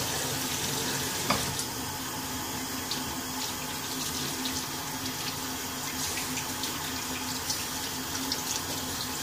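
Steady running tap water rinses leftover Dove soap out of a badger shaving brush under the faucet, a continuous close hiss with faint splashes and no talking.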